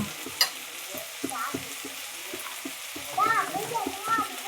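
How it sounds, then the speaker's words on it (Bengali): Tomatoes frying in a pan as ground spices are stirred in, with a soft sizzle under rhythmic scraping stirs of a spoon, fairly quiet, and a voice briefly audible near the end. "টমেটোটা খুব সুন্দরভাবে ভেজে গিয়েছে এবার এর মধ্যে দিয়ে দিচ্ছি"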